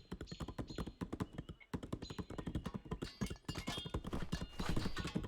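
Dense, rapid horse hooves clip-clopping in the strategy game 0 A.D., a steady cavalry patter of many overlapping hoofbeats with no pauses apart from one brief gap, loud and close with no talk.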